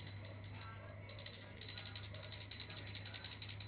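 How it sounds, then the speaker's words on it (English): A hand bell rings in rapid, continuous strokes during a Hindu puja ritual, growing louder and denser partway through, with no voices. "Please take the bell in your hands and ring it loudly"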